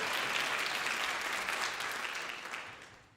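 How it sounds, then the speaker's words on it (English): Applause from an audience at a university distinguished service award celebration, a dense wash of clapping that holds steady, then gradually fades out toward the end, fairly soft and without talk. "This is a night all about applause."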